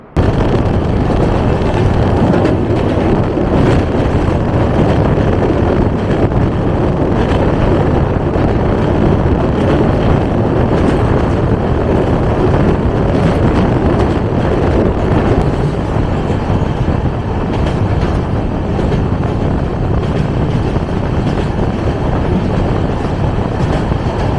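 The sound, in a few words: Dhauli Express train running, AC chair car journey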